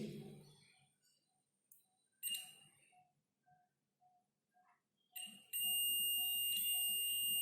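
A multimeter on its continuity setting emits a steady high-pitched beep that starts late and holds continuously, loud and close, following scattered handling clicks and soft background noise.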